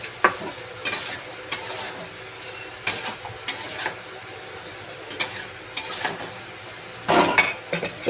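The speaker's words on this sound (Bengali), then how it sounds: "এবার এটা দিয়ে আমি একটু নেড়ে নেব।" Yogurt is stirred into a hot pan for butter chicken, with a low sizzle under repeated scraping and clinking strokes of a spoon against the pan, close and moderately quiet.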